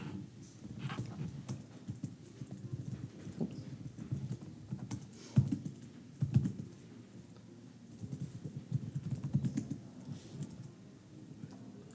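A computer keyboard is typed on to enter a terminal command, with a string of soft, uneven keystrokes over about twelve seconds and a few louder taps standing out, all fairly close and quiet.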